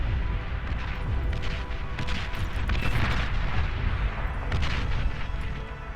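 Artillery fire against Wolverine units in the Beyond All Reason strategy game, with dense rumbling booms and overlapping blasts rolling continuously, loud and thick throughout.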